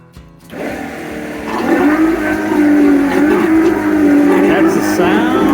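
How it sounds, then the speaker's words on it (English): A newly installed boat head pump motor runs steadily, a loud continuous whirring hum that starts after a brief click and builds slightly, holding alone without talk. "That's the sound of a new head pump working."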